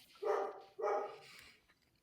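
A dog barks twice in quick succession, loud and close, each bark followed by a short tail of room echo, with no one talking.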